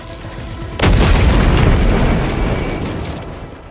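A grenade explodes in the Helldivers 2 video game with one loud, deep boom that lingers in a rumbling decay over a steady background of game noise.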